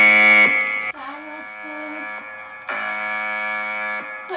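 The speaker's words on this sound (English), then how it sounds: "It's an aggressive timer," A workout timer alarm goes off loudly, a harsh continuous electronic buzzing tone that pulses in a few long sustained bursts with brief dips between them.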